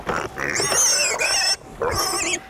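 A three-month-old piglet squeals loudly and close by in two long, shrill, wavering bursts separated by a short pause, with no talk.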